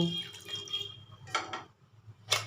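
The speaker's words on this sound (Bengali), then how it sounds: "ছানাটার মধ্যে এখন অল্প অল্প জল দেব আর ঠান্ডা করে নেব" Water is poured in small amounts onto fresh chhana curd made from powdered milk for rasgulla, rinsing away the vinegar sourness: faint, brief splashing bursts over a low kitchen hum.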